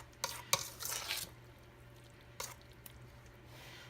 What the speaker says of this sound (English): I'm not trying to overly stir them, because the more you stir, the more the squash are so soft